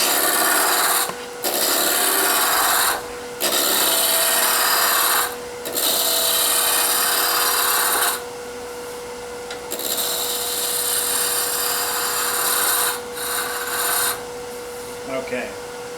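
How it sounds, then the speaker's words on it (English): A spindle roughing gouge cuts a wood blank spinning on a lathe, giving loud, close rasping passes in long bursts separated by short pauses, with a steady motor hum underneath. "So first thing you do is use the spindle roughing gouge."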